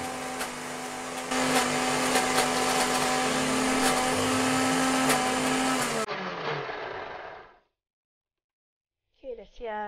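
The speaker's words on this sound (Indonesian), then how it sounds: "Kemudian tutup blendernya dan siap deh untuk di blender" A kitchen blender whirs loudly and steadily for several seconds, then cuts off and winds down into silence before a voice begins speaking.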